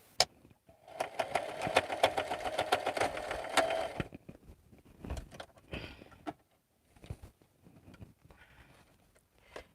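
A home sewing machine stitches in a fast burst of rapid mechanical pulses for a few seconds, followed by scattered clicks and short whirs as it stops and the fabric is adjusted, heard up close and fairly quiet.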